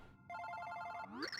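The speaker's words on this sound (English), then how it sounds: "wait, that is my phone." A telephone in Super Paper Mario rings once: a bright, repeating electronic ring that rises to a short upward chirp at the end, clear and alone.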